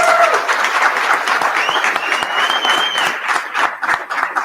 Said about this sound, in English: give them a big old round of applause